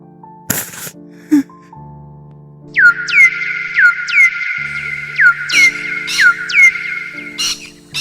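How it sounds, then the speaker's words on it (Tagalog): Birds call in a repeated series of short, sharp rising chirps, clear and fairly close, with a few knocks and a low steady hum underneath. "tila nananadya mga ibon na magparinig ng kanilang tawag"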